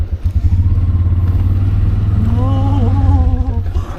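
A tuk-tuk engine labours up a steep road, a loud, close, buzzing putter with a rough pulsing rhythm and a rising note partway through, alone with no talk.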